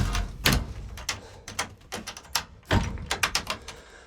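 A chicken coop door is shut and secured, producing a close series of sharp wooden knocks, clatters and rattling taps in an uneven rhythm.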